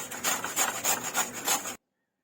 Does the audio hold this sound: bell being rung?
no